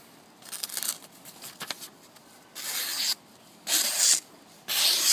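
Repeated rasping strokes of an RWL 34 steel blade being stropped, a few slow scrapes followed by three longer, louder sweeps with short pauses between.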